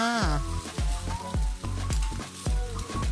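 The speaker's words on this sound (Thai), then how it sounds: "ตอนนี้ก็คนข้าวกับไข่นะคะ ให้เข้ากันเท่านั้นค่ะ" Fried rice with egg is stirred in a large, hot pan of a ten-kilo batch, a steady loud sizzle broken by regular scraping strokes of the spatula, roughly two per second, close up with no talking.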